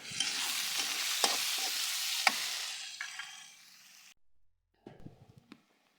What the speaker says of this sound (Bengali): পেঁয়াজ আর কাঁচা ঝালগুলো ভেজে নিচ্ছি ভালো করে